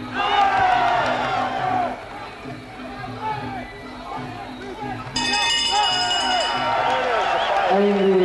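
A packed arena crowd roars and cheers throughout a European title boxing fight, a dense continuous swell under close commentary voices.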